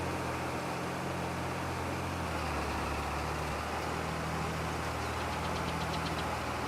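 Tractor engine in Farming Simulator 22 pulling a planter during corn and soybean planting, a steady low droning hum with a faint knocking texture that runs unbroken and fairly loud, with a slight change in pitch midway.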